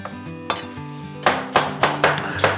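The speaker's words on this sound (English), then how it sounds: "and we just slice the cucumbers." A knife slicing cucumbers on a cutting board, chopping halved, seeded cucumbers into pieces: about half a dozen crisp, close chops in an uneven rhythm over a soft tonal background.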